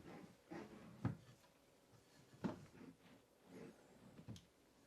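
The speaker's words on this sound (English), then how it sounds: "If we open those doors, we have the pull-out drawers here." Cabinet doors on a stationary kitchen island in a 2027 Newmar London Aire motorhome swing open with a few soft wooden knocks and thumps, close and quiet, no talking.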